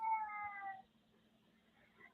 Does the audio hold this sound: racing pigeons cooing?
no